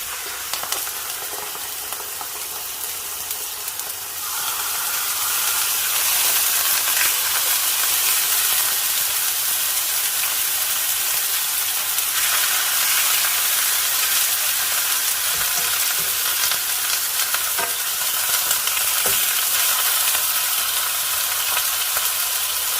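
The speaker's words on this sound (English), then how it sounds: "I specifically want this to saute, get soft, and then kind of evaporate whatever liquid's left in the pan" Taco meat sautéing in a pan, a quieter sizzle at first that jumps to a loud, dense, steady hiss after about four seconds, with occasional stirring scrapes and no talk.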